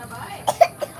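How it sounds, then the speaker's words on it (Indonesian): A child's three short, sharp coughs in quick succession, close by, with faint background noise in between. "Oh, ada yang batuk."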